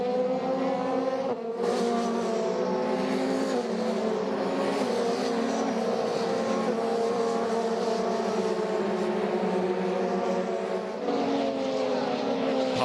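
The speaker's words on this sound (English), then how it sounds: "Past the pits once again goes this long train of cars headed by Mick Schumacher." FIA Formula 3 race cars stream past the pits at Silverstone during a race: a loud, sustained engine roar with a steady high-pitched whine fills the whole stretch, easing briefly near the start and the end.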